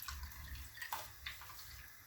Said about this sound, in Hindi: अब इसमें मैं मज़ीद 2 ग्लास ठंडा पानी डालूंगी